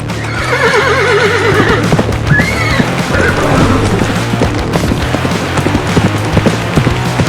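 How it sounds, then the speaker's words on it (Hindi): A cartoon horse gives a loud, wavering neigh, then its hooves clip-clop in a quick, steady rhythm close by, continuing without pause through the rest of the clip. "अशोक अपने घोड़े को लेकर औषधि लेने के लिए जंगल के रास्ते की ओर चल देता है।"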